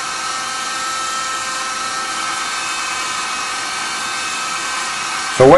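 A small RC helicopter's rotors spin up with a steady, continuous high-pitched whine that holds level throughout, then swells into a brief louder burst right at the end.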